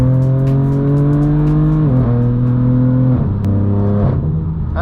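A straight-piped BMW M4 F82 drones loudly from inside the cabin at highway speed, its exhaust note holding steady, then dropping in pitch through a few gear changes, with no talking.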